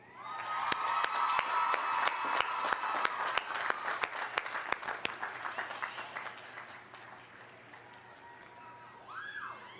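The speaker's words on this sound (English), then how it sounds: "let's have an enthusiastic, well-deserved round of applause for those individuals" An audience at a college of agriculture commencement breaks into loud applause mixed with cheers and whoops, dense clapping that peaks early and slowly thins out, with a few scattered calls near the end.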